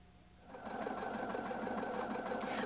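A Husqvarna Viking Designer 1 sewing machine sews a row of cross stitches, starting after a brief quiet moment and then running as a steady, rapid, close whirring hum.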